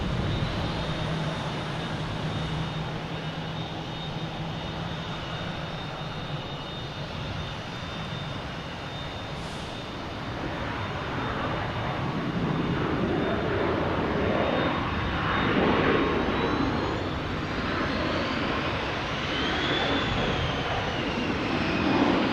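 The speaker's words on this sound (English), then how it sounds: "Alaskan Airlines coming in from San Diego, 737" An Alaska Airlines Boeing 737 MAX 9 jet arriving from San Diego at Boston Logan Airport: a steady, loud engine roar with a high whine that swells toward the end as the plane draws nearer, with no voices.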